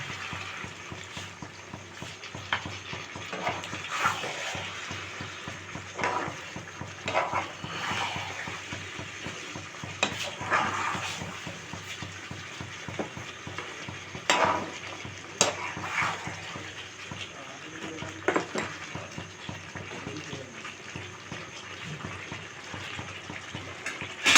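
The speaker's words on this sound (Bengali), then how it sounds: "এই মশলা ধরে জলটাও অল্প অল্প দিয়ে মশলাটাকে কষাবো ভালো করে চিকেনগুলোকে" Chicken cooking in spice masala with a little water added, a continuous quiet sizzle and bubbling with scattered scraping and clinking of a spatula in the pan, close by and with no talking.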